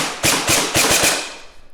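Airsoft gun on semi-auto with pre-cocking, powered by a 7.4 volt LiPo, fires five sharp, close shots in a quick uneven string, each a loud crack with a short tail, ending in a faint mechanical click.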